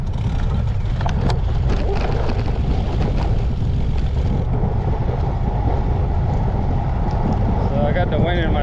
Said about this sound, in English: The wind in my face